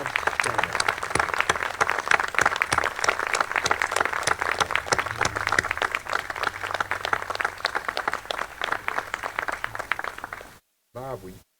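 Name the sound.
audience applause for Bob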